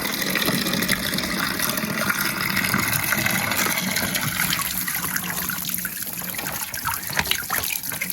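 Steady running water at an oasis spring in Aït Mansour, Morocco, a continuous close splashing trickle with no pauses, fairly loud throughout.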